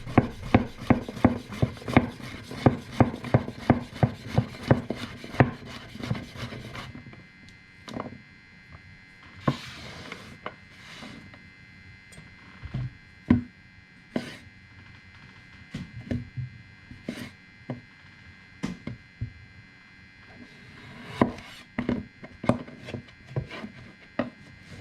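A knife slices yellow squash and zucchini into half moons on a cutting board, making a series of crisp, close chopping taps. The cuts come quickly at first, then arrive as sparser, uneven strokes.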